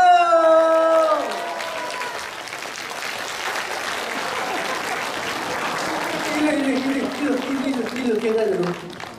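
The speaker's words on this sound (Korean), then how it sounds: "박수 한번 주세요!" A crowd at an orchestra concert claps and cheers loudly and steadily for several seconds, with a voice speaking over the start and end of the applause.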